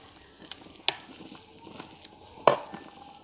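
Rice being dry-roasted for Thai khao khua and stirred in a pan, heard as soft scraping with two sharper clinks of the utensil against the pan over a faint background hiss.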